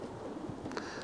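Soft low cooing of a racing pigeon in a loft, a brief murmuring call, faint and close, with no talk.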